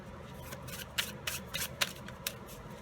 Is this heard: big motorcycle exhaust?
no